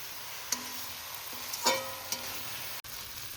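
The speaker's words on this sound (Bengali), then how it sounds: "এবার আমি পোস্তটাকে পেঁয়াজ কালির সাথে ভালো করে কষিয়ে নেব" Poppy seed paste stir-fried with onion stalks in a pan, giving a soft, even hiss broken by a few sharp clicks and scrapes from the spoon, near and unaccompanied by speech.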